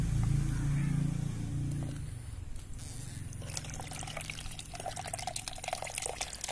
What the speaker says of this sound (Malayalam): അരിപ്പിൽ വീഴ്ത്തിയ ശേഷം ഇതേപോലെ വെള്ളം ഒഴിച്ചൊന്ന് നല്ലതുപോലെ ഒന്ന് തണുപ്പിക്കേണ്ടതായിട്ടുണ്ട്